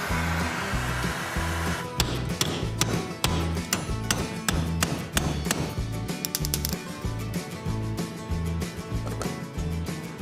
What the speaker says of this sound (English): I'm just nailing it with a hammer